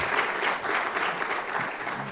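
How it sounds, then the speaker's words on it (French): Applause from a conference audience after a talk on sensors and models for managing nitrogen in cereal crops, a short burst of steady clapping heard at moderate distance. "applaudissez-le."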